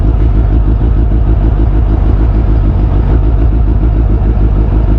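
A first-generation Suzuki Hayabusa engine drones loud and steady while the bike is ridden, a constant low rumble with heavy wind buffeting and no clear break for a gear change.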